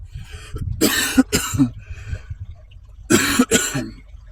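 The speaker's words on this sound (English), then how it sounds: "I will need to cough periodically" Several loud, close coughs come in two bursts, each a pair of harsh barks with short pauses between.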